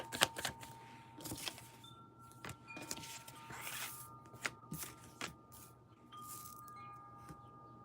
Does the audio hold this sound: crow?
no